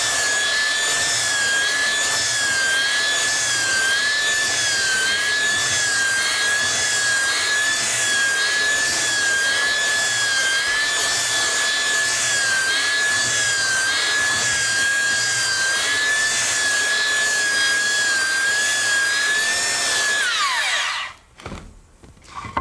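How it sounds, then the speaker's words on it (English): Belt sander working across a wide wooden board for cabinet building, a loud continuous whine with a slightly wavering pitch for about twenty seconds before it spins down and stops. "So let's go ahead and sand this one off."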